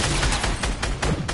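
Turret gunfire in a PS4 video game comes as a dense, loud, continuous volley of rapid shots, with no voice over it.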